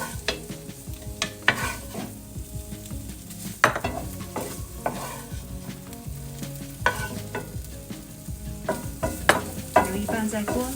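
Ham stir-frying over low heat in a pan for a ham pasta dish: a continuous sizzle broken by frequent scraping and clacking strokes of the spatula against the pan, close and fairly loud.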